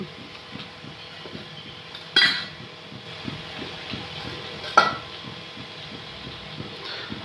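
Chicken and potatoes with turmeric being stirred in a pan for til chicken, with a quiet rhythmic scraping of a utensil and two sharper metallic clinks, close and without talk.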